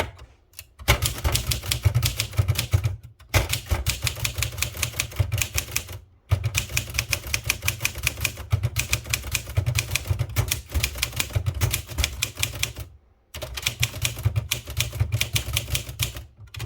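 Princess 500 typewriter typing on paper after cleaning and repair: dense runs of crisp key strikes in bursts, separated by short silent pauses, close and loud with no talking.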